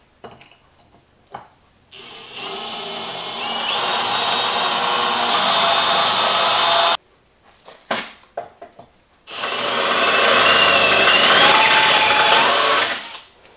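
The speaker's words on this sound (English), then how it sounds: "I'm going to go ahead and drill the holes in it by hand" Handheld drill boring holes into a metal plate in a workshop, two long loud whining runs of several seconds each with short gaps and small clunks between them, close and alone.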